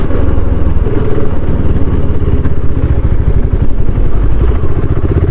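A BSA Scrambler 650 motorcycle ridden off-road, its engine a loud, close, continuous low rumble with a clattering pulse, with no talk over it.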